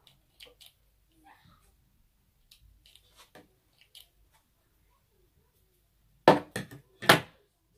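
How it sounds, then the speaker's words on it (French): Scissors snip loose threads off a homemade reusable fabric face mask: three sharp, close cuts in quick succession near the end, after a stretch of faint, scattered handling noises. "Je vais couper tous ces fils là."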